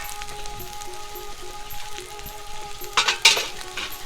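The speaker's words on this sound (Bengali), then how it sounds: "সেখানে কিন্তু আম্মু শীতলটা ভেজে নেবে" Sidol, a fermented dried fish paste, frying in a bowl makes a low, steady sizzle that swells into a few louder bursts near the end, with a faint hum beneath.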